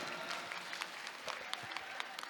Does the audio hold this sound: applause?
yes